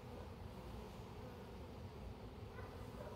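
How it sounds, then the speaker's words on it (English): Honeybees crowded in a hive box, a dense, continuous low buzzing hum heard up close, steady and unbroken with no talking. "Bees are so crowded, box so crowded with bees"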